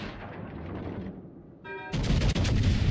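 Battleship turrets on the AL Colorado fire in World of Warships Legends: a rumbling buildup gives way to a sudden loud, sustained barrage of heavy booming salvos, near and dense, after a brief tonal cue.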